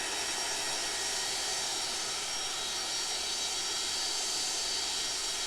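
MD-80 jet engines heard from outside the aircraft in the X-Plane flight simulator during the climb with flaps down, a steady, loud, broadband roar with a high whine that holds without a break.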